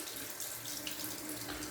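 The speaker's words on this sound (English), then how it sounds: "Let's get a real good rinse with some cold water here." Cold tap water runs steadily into a sink for a rinse during a wet shave, a close, loud, even splashing rush with no talking.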